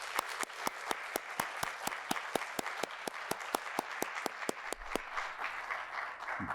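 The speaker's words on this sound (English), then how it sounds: "So let's give him a round of applause." An audience applauds at the close of a university lecture with a Nobel Prize winner. The clapping is steady, dense and sustained in a large hall, heard alone without talk.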